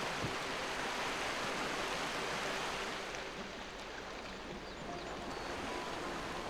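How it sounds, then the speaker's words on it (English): Broad, continuous rushing splash of a waterfall in The Talos Principle video game, heard close and steady with no voices. "Gotta try walking through the waterfall"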